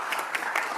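Brief burst of audience applause at a city council finance and governance committee meeting, a short dense patter of clapping.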